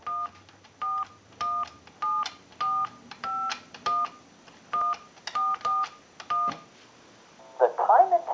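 Ten touch-tone beeps are dialed on a Western Electric 2554 telephone in a quick, even rhythm, followed by a brief burst of electronic noise.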